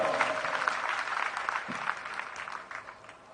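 A church congregation claps together in a dense, steady burst of applause that fades slightly toward the end.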